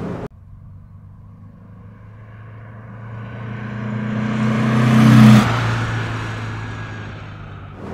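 A 1962 Porsche 356 BT6 Cabriolet with a 90 PS engine drives past, its engine drone and road rumble building steadily to a loud, close peak and then fading as it moves away.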